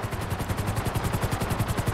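Helicopter in a GTA-style story-mode video game, its rotor chopping in a steady rapid pulse with a continuous engine whine, loud and close, with no talk over it.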